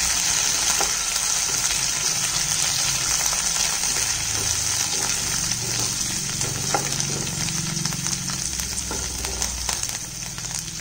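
Onions sautéed until pink sizzle and fry steadily in a pan with coriander added, for a Maharashtrian pithla, giving a loud, constant crackling hiss with occasional stirring scrapes.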